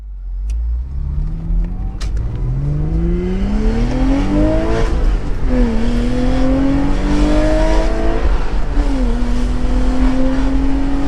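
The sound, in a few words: Porsche Boxster 986 engine revving on a dyno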